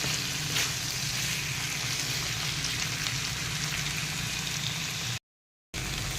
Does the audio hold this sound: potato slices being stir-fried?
yes